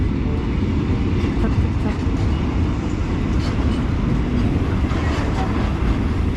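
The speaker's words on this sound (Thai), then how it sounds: "เสียงเวลา ล้อมันหมุนโดนรางเนี่ยมันมันเงียบมากเลยมันนิ่มมากเลย" Wheels of an old Alstom 4202 locomotive hauling a long oil train roll smoothly over the rails in a loud, constant rumble with faint rhythmic clicks, and someone talks over it.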